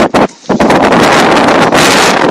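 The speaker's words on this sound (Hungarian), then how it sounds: "De fúj a szél." Strong wind buffets an outdoor microphone on a snowy drive home through farmland, a loud, roaring gusty rush that drops briefly near the start and then blows steadily on.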